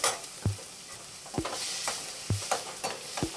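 Onion frying in a pan for mutton chukka gives a steady sizzle, broken by about half a dozen sharp scraping strokes of a spoon stirring at irregular intervals, close and clear with no talking.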